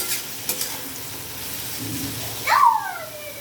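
Ridge gourd with salt is stirred in a pan over a soft sizzle, with a few scrapes and a brief tonal squeal near the end.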